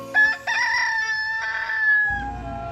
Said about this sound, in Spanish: Al oír el canto del gallo